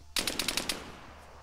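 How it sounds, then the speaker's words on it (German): Quick burst of about six rapid gunshots from teammates in the tactical shooter ArmA 3, sharp and moderately close, trailing off into quiet ambience. "Wahrscheinlich mein Team gerade geschossen."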